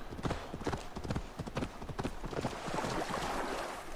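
A horse's hooves clip-clop in Assassin's Creed Valhalla, a quick run of close, sharp thuds that gives way to a softer, splashier patter as the horse moves through shallow water.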